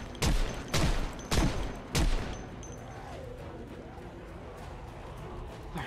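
Four loud, evenly spaced gunshots ring out in the Project Zomboid survival game as zombies are shot, followed by quieter in-game ambience and faint background sounds.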